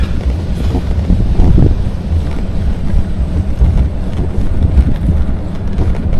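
Breezy wind blowing outdoors on a sunny day during a long-distance bike ride, heard as a loud, constant low rumble buffeting the microphone with no pauses and no talking.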